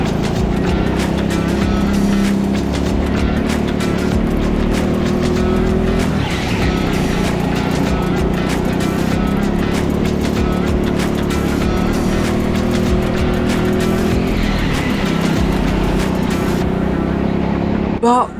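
A racing go-kart on the indoor TeamSport Leicester track during a qualifying lap at the BIKC Middleweight Regional Finals, its engine revving high and dropping under braking around corners, with tire squeal at turns, loud and close throughout.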